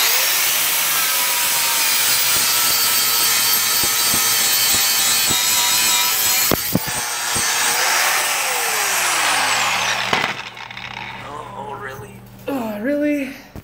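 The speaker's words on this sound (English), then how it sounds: "Alright, just have to grind this off" An angle grinder makes a loud, continuous harsh whine as it grinds a part off a trailer for about ten seconds. It then stops and leaves scraping and brief voices.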